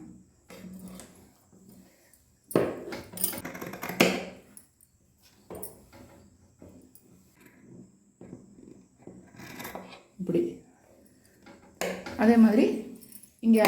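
Scissors snip through saree fabric in short, clustered bursts of crisp cutting close by, separated by quieter gaps, with someone speaking in between.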